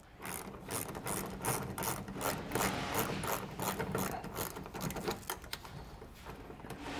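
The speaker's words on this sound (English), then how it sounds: "So I got my ratchet here, gonna loosen those up" Hand ratchet loosening hex head bolts on a 2022 Ram 2500 during mud flap installation, a rapid, steady run of close clicking strokes throughout.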